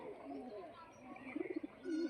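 Pigeons coo on a rooftop as a hawk circles nearby, a few soft low calls near the middle and end, faint and moderately close over light background noise.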